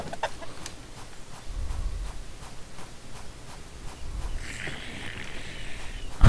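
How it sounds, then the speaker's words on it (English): Low, soft clucking from a chicken in the RPG video game My World, a couple of muffled bursts over a steady game background, followed by a brighter chirping tone near the end. "Hi chicken."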